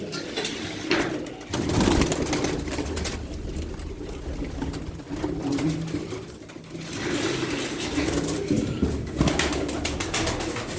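Tumbler pigeons in a loft, soft repeated cooing mixed with sharp, hard wing claps and flutters, fairly close and continuous with a low rumble beneath.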